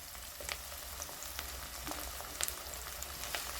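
Tomato and chicken leg pieces frying together in a pan for a village-style chicken curry, a steady soft sizzle with scattered light crackles and pops, close and alone.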